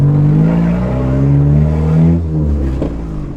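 A turbocharged 4G15 engine in a Mitsubishi Lancer idles loudly nearby with a steady, throaty drone and a slight dip in pitch partway through, heard on its own.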